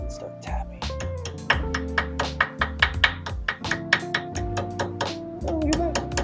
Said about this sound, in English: So now I'm going to tap it in